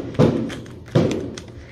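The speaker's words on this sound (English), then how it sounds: "There goes the fireworks." Distant fireworks outside on the Fourth of July, heard indoors as two muffled low booms about three-quarters of a second apart, followed by a fainter third thump.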